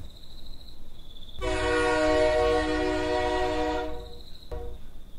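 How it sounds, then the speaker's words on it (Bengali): A train's loud, sustained horn blares for a couple of seconds as it pulls into a station, set against a quieter rumbling background with a faint whistle-like tone before and after, used as an audiobook sound effect. "হুইসেল বাজিয়ে একটা ট্রেন স্টেশনে ঢুকতে শুরু করলো"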